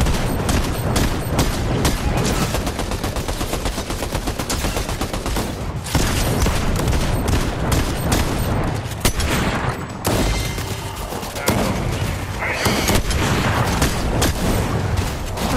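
Dense, loud Fortnite gunfire in a battle against bosses: rapid bursts of automatic shots and overlapping blasts run almost without pause, with only brief gaps between volleys.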